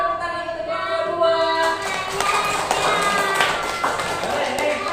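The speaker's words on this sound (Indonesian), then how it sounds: "Berikan tepuk tangan untuk yang kedua" Classroom applause from a fourth-grade class, many children clapping together in a dense, steady wash of hand claps that fills the room, with voices mixed in underneath.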